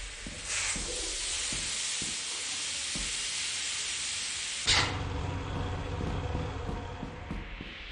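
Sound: steam hissing in video game Lethal Company

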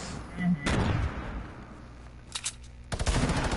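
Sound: grenade explosion in Fortnite video game

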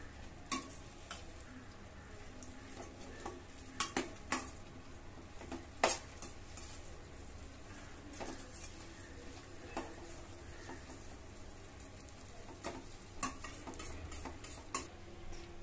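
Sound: dry fruits roasting and stirred in a pan

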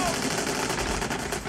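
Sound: gunfire in a war film

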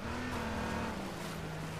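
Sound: car in the video game H1Z1

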